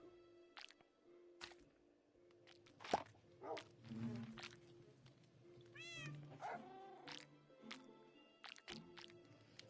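A pet cat named Lila meows several times in varied, odd-sounding calls, some rising and wavering, over a quiet indoor background with faint footsteps and light movement.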